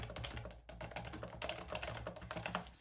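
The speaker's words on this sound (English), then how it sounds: "sorry, I'm typing real quick." Fast typing on a computer keyboard, a quick continuous stream of close, light key clicks with no voices over it.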